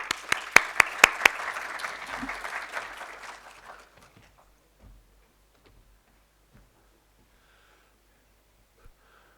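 An audience at a tech meetup welcomes a speaker on stage with applause, a few sharp close claps up front over a brief swell of clapping that fades within a few seconds into quiet room noise and scattered small knocks.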